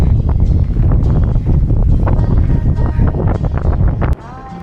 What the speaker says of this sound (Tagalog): Sobrang hangin pa rin.